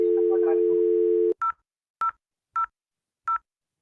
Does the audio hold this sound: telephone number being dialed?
yes